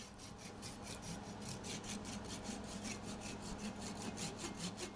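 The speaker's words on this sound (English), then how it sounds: "This is a Japanese saw. Makes a real fine cut." A fine-toothed Japanese pull saw cuts into the wooden neck joint of a Gretsch Country Gentleman guitar during a neck reset, rasping in quick, even back-and-forth strokes, close and steady, with no talking.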